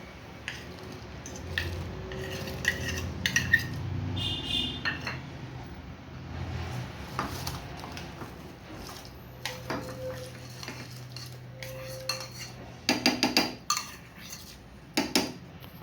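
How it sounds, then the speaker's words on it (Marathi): Rice and moong dal khichdi is stirred in a pot with a spoon. Irregular metallic clinks and scrapes against the pot fall in clusters, with quiet gaps between them and a quick run of taps near the end. "आपण एकदा व्यवस्थित खिचडी हलवून घेऊया"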